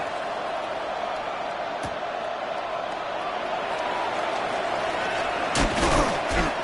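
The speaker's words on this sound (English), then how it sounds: "The ball upright on the tee, and the Saints kick team booms it away." A Saints kickoff in a Madden football video game: a dull thud of the kick early on, over a low stadium crowd murmur that swells into a louder burst near the end.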